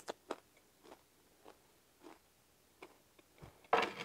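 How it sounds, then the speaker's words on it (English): Someone bites into a crunchy beef tripe taco with onion and cilantro, giving a few faint close crisp crunches spaced apart and then a louder final crunch. "Alright, let's go in for a bite."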